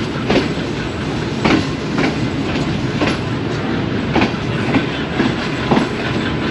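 A train rumbles at a crowded station platform with steady rolling noise and periodic clickety-clack wheel beats, loud and close, with no talk.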